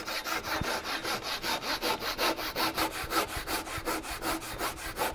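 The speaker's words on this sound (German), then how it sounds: "Und jetzt heißt es sägen." A hand saw cuts through wood set at an angle, fast regular back-and-forth rasping strokes, about four per second, close and alone.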